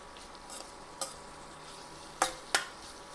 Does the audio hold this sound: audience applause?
no